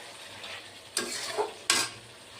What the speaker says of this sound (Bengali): এই যে কষানো মাংস মানে কষানো হচ্ছে আর কি